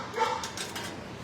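A shelter dog in its kennel gives a short, close whining yip and whimper, quick and moderately loud, against faint background noise.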